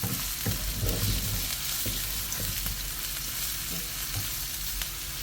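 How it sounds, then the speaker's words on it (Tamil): Onions sauté and sizzle steadily in a pan, a loud, close frying hiss with a few stirring scrapes, heard alone without talk. "வெங்காயம் சேர்த்துக்கிறேன். நல்லா வந்து ப்ரௌனிஷ் ஆகிற வரைக்கும் நீங்கள் வதக்கணும்."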